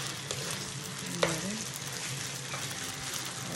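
Chicken pieces brown in a hot pan for a chicken stew with jalapeños, a steady close sizzle and crackle of frying with one brief stir or scrape partway through, no speech.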